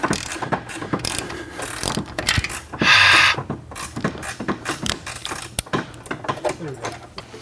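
Hub bolt being worked out of a Corvette Z06 spindle with a ratchet: quick metallic clicking and clanking close by, with a short harsher burst of tool noise in the middle.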